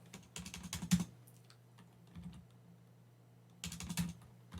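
A computer keyboard is used to type a git command, with two quick bursts of close, faint key clicks separated by a short pause and a few isolated taps, in a quiet room.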